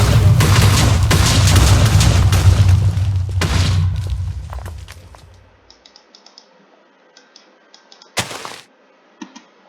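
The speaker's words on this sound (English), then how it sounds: "I love lighting TNT." TNT exploding in Minecraft, a loud booming blast rumbling for several seconds and fading out, followed by scattered small clicks and one more sharp burst.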